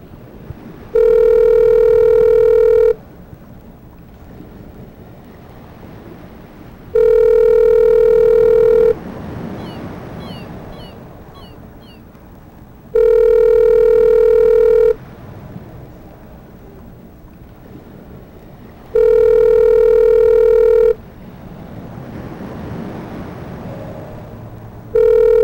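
Repeated telephone tones: four long, loud steady beeps about two seconds each, spaced by quieter gaps of line noise and faint clicks, like a call ringing out unanswered.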